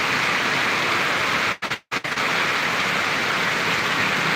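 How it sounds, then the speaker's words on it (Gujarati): Heavy torrential rain pours down in Sarvadi village, a loud, dense, continuous hiss of downpour that drops out briefly for a moment before surging back steady and close. "ખૂબ સરસ મજાનો વરસાદ અત્યારે હાલ પડી રહ્યો છે"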